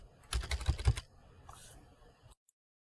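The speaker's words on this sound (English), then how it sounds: "So I'm just going to type, because you can't see it either, a password." Quick keystrokes on a computer keyboard as a password is entered, a dense burst of close, crisp clicks followed by a few softer taps and then silence.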